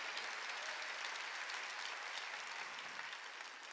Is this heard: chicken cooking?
no